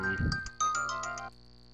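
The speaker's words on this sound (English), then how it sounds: "That phone is ringing for some reason." A phone ringtone chimes in a quick melodic run of bright ding-like tones over a Minecraft game backdrop, clear and alone, lasting about a second.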